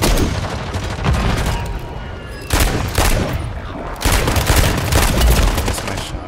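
Bursts of automatic gunfire in a Warzone match, three loud sustained volleys broken by brief dips, close and dominant throughout.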